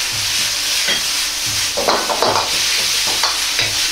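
Bamboo shoots bubble and reduce in oyster sauce over high heat, a constant loud sizzle broken by several short scraping stirs of the pan.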